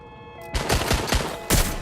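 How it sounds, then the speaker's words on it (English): Gunfire in Watch Dogs Legion: after a quiet start, a loud burst of rapid shots erupts, with several sharp cracks in quick succession and a heavy final volley near the end, close and dense. "Shots fired! Shots fired!"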